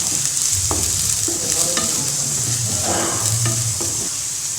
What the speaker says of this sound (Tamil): அது கூட காய் சேர்த்தாச்சு. காயும் ரொம்ப நேரம் வதங்க வேண்டாம்.